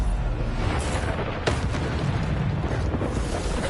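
A Bombarda spell explosion in Hogwarts Legacy, a loud booming blast with a sharp burst near the middle, amid ongoing combat noise.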